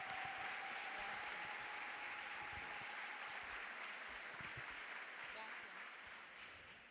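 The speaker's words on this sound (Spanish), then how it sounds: "ahí tienes una ovación y un montón de aplausos" Sustained applause and an ovation from a conference audience in Tandil, steady and dense for the whole stretch, fading slightly near the end, with a voice faintly present underneath.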